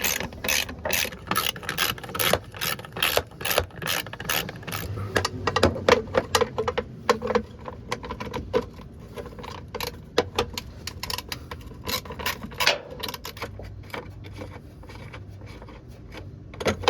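Ratchet clicking in rapid bursts while removing the six running board bolts on a third-generation Toyota 4Runner, loud and close, with repeated ratcheting runs and brief pauses between bolts.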